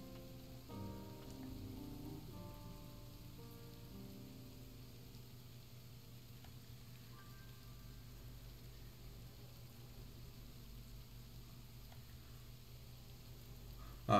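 Steady, soft rain patters throughout a scene in the video game Ender Lilies, a faint even hiss with a few gentle musical notes near the start.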